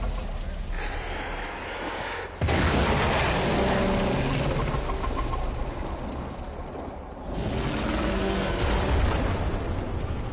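A sudden loud blast in the game Warframe, Heart of Deimos, opens a dense, sustained roar of rumbling debris and crackling, with bird-like chirps mixed in; it dips briefly before swelling again.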